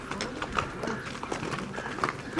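Horses in Kyrgyzstan gathering from the streets, hooves clip-clopping at a walk in an uneven, overlapping rhythm at moderate distance, with faint voices in the background.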